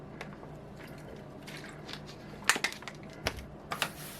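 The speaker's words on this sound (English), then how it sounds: "let me drink some water real quick" Someone drinking water close to the microphone, with a few small sips, gulps and liquid clicks scattered over quiet room noise, no speech.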